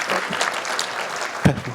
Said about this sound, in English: after every name I give, just do a slow clap